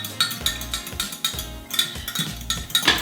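Pak choi and apple salad with olive oil being tossed in a bowl, utensils clinking and scraping in an uneven rhythm of close, bright taps.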